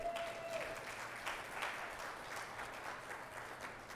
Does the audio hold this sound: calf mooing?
no